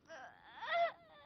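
A young girl's crying, a short tearful wail rising in pitch then trailing off, close and fairly quiet within a dramatic indoor scene.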